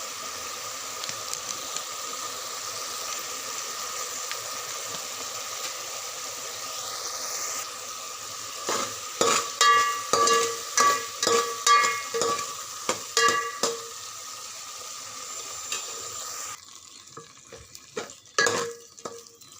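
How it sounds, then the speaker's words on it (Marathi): Masala spices for a paneer, cauliflower, pea and potato dish frying in a pan: a steady sizzle with a burst of rhythmic spatula scrapes and stirring clatter in the middle, then the sizzle drops lower near the end. "मसाला चांगला फ्राय झाला आहे आपला"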